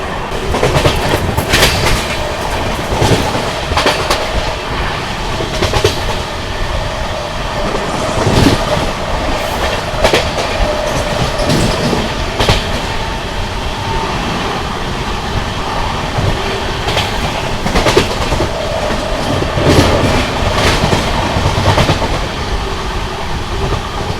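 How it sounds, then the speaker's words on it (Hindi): The Vikramshila Superfast Express from Anand Vihar to Bhagalpur runs at speed as it overtakes the Gomti Express on a parallel track near Aligarh Junction. Loud steady rumble, rhythmic clickety-clack of wheels and occasional squeals continue throughout, with no talk. "Overtaking Gomti express."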